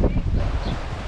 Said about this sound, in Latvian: Vējš drausmīgs.